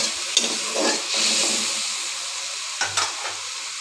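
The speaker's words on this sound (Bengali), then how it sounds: "এখন দিয়ে দেব হলুদ, লবণ, দিয়ে কিছুক্ষণ মশলাটা কষিয়ে নেব।" Spices with turmeric and salt fry in a pan, a steady close sizzle broken by the scrape of stirring, with a few louder clatters near the end and no speech.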